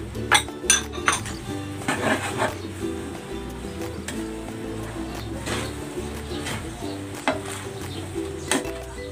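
Chopped carrots and Baguio beans go into a pan of pancit bihon, with repeated clinks of a metal utensil against the pan, light sizzling and stirring in a busy, close kitchen.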